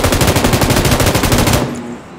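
An automatic weapon in PUBG fires one rapid burst of evenly spaced shots, loud and close, for about a second and a half before it cuts off into quiet.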